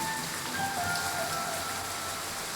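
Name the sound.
rain falling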